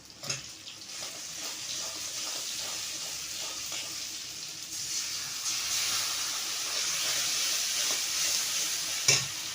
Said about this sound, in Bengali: বেটে রাখা পোস্ত আর লঙ্কাটা এবার আমি তেলের করে দিয়ে দেবো।